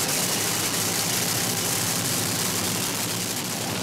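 Fourteen nitro-burning drag racing engines roar together on the start line at Sydney Dragway, a loud, dense, continuous wall of noise with no voices.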